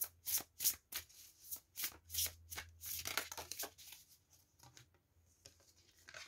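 Oracle cards shuffled and drawn by hand during a card reading, a string of crisp riffling bursts in quick irregular rhythm, close and fairly quiet, with a low hum underneath and no voices.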